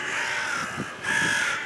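Crows in Egypt caw outdoors over a steady wash of background noise, a few hoarse calls spaced out across the stretch, clear but not very close.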